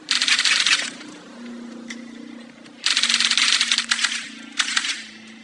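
Rapid gunfire in the video game My Friend Pedro: two long bursts of fast automatic shots, loud and close, separated by a lull with a few isolated shots, all over a steady low game hum.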